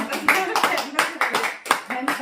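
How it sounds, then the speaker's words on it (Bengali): A few people clap in a rhythmic, fairly close pattern at a home birthday celebration, with voices chanting over the claps. "হাততালি হাততালি।"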